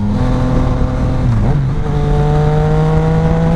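A naked-style motorcycle ridden by a rider in a KYT NX Race helmet accelerates up through the gears, a steady engine drone climbing in pitch with a brief dip at a shift, loud and close with heavy wind noise.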